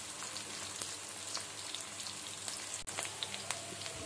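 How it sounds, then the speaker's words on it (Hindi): A medium-sized onion fries toward light brown for chicken pulao, a steady close sizzle with scattered crackling pops running throughout, with no voices. "इसमें एक मीडियम साइज का प्याज डाल देंगे और इसको लाइट ब्राउन कर लेंगे"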